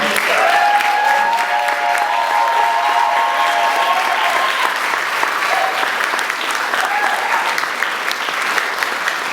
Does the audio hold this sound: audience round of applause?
yes